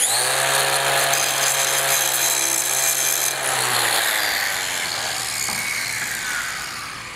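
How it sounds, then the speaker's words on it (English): A quick metal grind on a trailer surface to clean it for a ground wire connection, a loud, steady, harsh grinding roar held for about seven seconds that eases slightly toward the end. "I'm just gonna throw a quick grind on it here."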